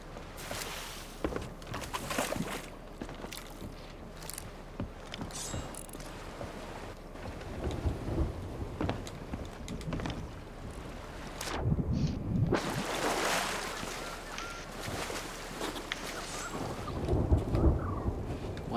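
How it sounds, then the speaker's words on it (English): Storm sounds in the Sea of Thieves game: rolling thunder claps and steady rain surge loudly in several bursts over continuous rumbling wind and rain. "Why is there always a storm while we play?"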